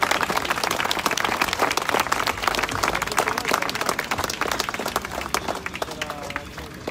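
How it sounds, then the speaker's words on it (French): A crowd at an outdoor demonstration of mountain workers in Chambéry claps continuously for about seven seconds, dense and fairly loud, fading slightly at the end, with scattered voices mixed in. "je vous remercie de l'applaudir également"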